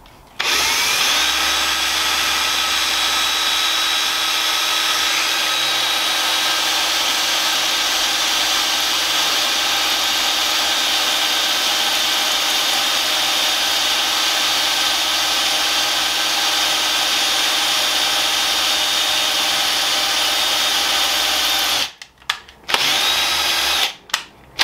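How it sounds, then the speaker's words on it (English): A power drill runs at a steady high whine for about twenty seconds, drilling out a stuck grub screw on a bicycle wheel, close and loud before stopping abruptly and giving a couple of brief bursts. "So we're going to have to drill that out a bit more"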